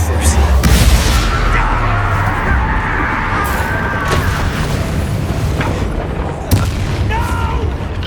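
Loud, continuous booming from a Confringo fire-blast spell in the Hogwarts Legacy video game, a dense rumble of explosions and impacts during a fight with a sharper hit near the end, with faint voices mixed in.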